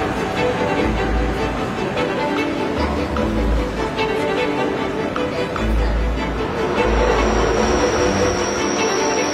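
A passenger train in Germany, between Dresden and Kiel, rolls steadily along the rails, a continuous rumble with rhythmic low thumps from the wheels and a faint metallic squeal rising near the end.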